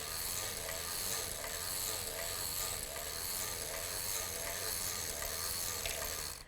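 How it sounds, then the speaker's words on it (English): A hand-cranked knitting machine cylinder turns quickly while cranking waste yarn, producing a dense, continuous mechanical clatter and ratcheting close by for several seconds, without speech. "I'm going to crank quite a bit of waste yarn because I know that I'm just going to turn around and use it again"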